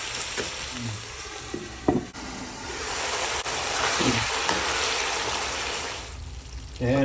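Chayote sizzling in a hot pan with soy sauce, a constant frying hiss broken by a few clanks and scrapes of stirring, close and fairly loud.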